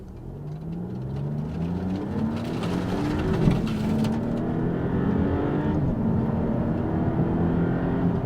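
A 2022 Maserati MC20 sports car sets off and accelerates, its engine note rising in steady harmonic sweeps, loud and close, with no talk over it.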